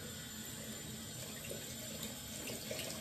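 Tap water runs steadily into a sink while a stained finger is rinsed under it, a continuous close hiss and splash with no voices.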